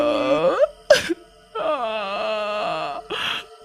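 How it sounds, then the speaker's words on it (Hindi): A voice wails and moans in long, wavering cries broken by a short gasping sob, loud and close, like a crying-ghost effect in a Hindi horror story about a witch in the house. "मुझे अचानक किसी औरत के रोने की आवाज सुनाई पड़ रही थी"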